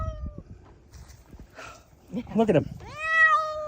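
A cat meows, coming from a video being played back, its rising cry starting faint and swelling into a loud, drawn-out call near the end, with people talking briefly over the start.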